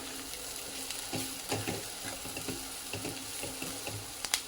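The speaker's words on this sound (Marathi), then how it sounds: "इतकी चटणी घालायची हे छान परतून घ्यायचं" Kolhapuri chutney frying in oil crackles with a soft, steady sizzle, broken by intermittent scrapes and clinks of a spoon stirring, fairly quiet and close.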